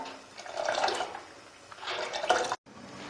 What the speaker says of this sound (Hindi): मुसलसल आपने डोंगा चलाते रहना है और ये देखें इस तरह फेंटते रहना है